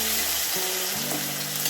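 Jackfruit seeds fry in a pan with a steady, close sizzle while they are stirred, with faint scraping under the continuous hiss.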